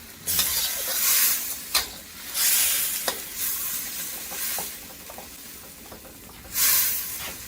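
Chinese kale stir-fried in a wok over a high flame gives a loud hissing sizzle with repeated bursts and scraping stir strokes at close range, and no one speaks.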